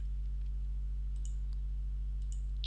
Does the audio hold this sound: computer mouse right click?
yes